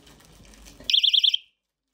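A pulled personal safety alarm lets out a loud, piercing pulsing siren of about five rapid warbling beeps that stops abruptly, following a moment of quieter background sound.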